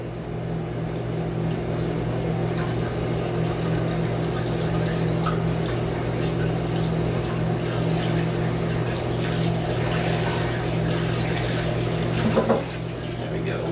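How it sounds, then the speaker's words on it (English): Water poured into a mead fermenter, a continuous splashing, gurgling flow with a steady low hum underneath, ending in a brief clatter. "It's time to start adding the rest of our water."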